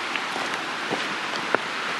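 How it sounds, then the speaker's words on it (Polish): A constant rushing hiss of a mountain stream near Szklarska Poręba, close and even throughout, with a few faint taps over the flow. "To szum potoku."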